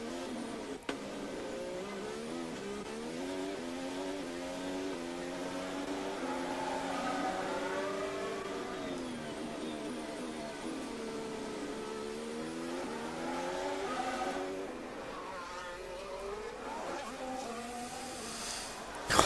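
A Formula 1 car laps Monaco in qualifying, its high-pitched engine whine sweeping up and down through gear changes, fairly faint and distant with a constant background hum.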